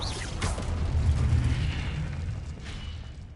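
In Hogwarts Legacy, a Confringo spell explodes in a deep booming burst that swells and rolls away over a few seconds, with a sharp crackle at its onset and a later fizzing tail.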